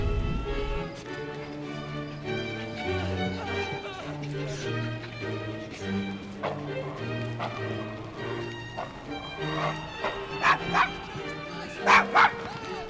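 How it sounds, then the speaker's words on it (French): A dog in the video game Assassin's Creed Syndicate barks angrily, with repeated yips and whimpering yelps that grow louder toward the end, over a continuous tonal game soundtrack. "Ah, le chien il a pété un câble là."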